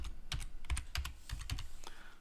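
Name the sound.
typing a password on a computer keyboard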